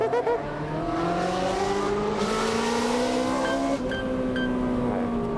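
A Ferrari 360 Modena's engine revs high and loud through a drift, its pitch rising and falling in long sustained sweeps with no talk over it.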